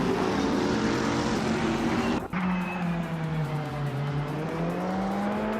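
Engine of a 2018 Toyota FT1 GTE race car in a racing video game, a loud sustained drone that drops sharply at a gear change and then climbs steadily again, with no one talking.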